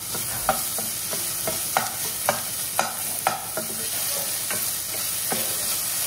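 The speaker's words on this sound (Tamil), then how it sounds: "வெங்காயம் கொஞ்சம் வதங்கினாலும் இதில் கொஞ்சமாக இஞ்சி பூண்டு பேஸ்ட்டு" Chopped onions and ginger garlic paste fry in a pan for chicken gravy, a steady close sizzle broken by regular scraping strokes of a spoon stirring every half second or so, with no speech.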